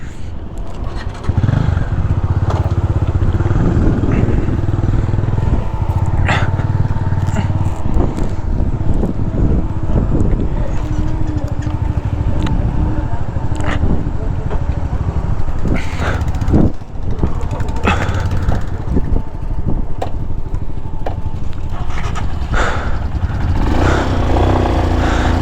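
A motorcycle rides off on a mountain road on the way to Ladakh, its engine droning steadily and loudly throughout with wind buffeting and occasional surges of revving.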